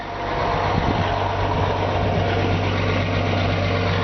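A 1957 Chevy 3100 pickup's engine idles steadily with a deep, even rumble, close by and continuous, no voices.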